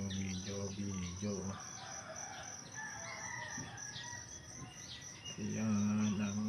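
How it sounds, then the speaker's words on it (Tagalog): Outdoors in fair weather, a rooster crows loudly and near at the start and again at the end, while smaller birds chirp and tweet steadily through the middle against a soft background hiss. "Ayan yung mga ibon."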